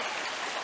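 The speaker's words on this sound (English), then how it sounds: "So here's the river." A low river runs through woodland, giving a steady, soft broadband wash of flowing water with no voices, close and even throughout the short stretch.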